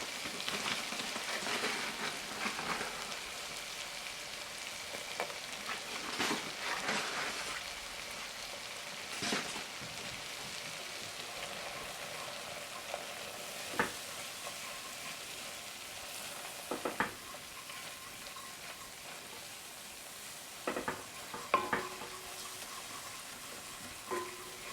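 Flour cooks in a pan for a plant-based mac and cheese, giving a faint, steady sizzle broken by soft scraping stirs and occasional clinks, heard alone without talk.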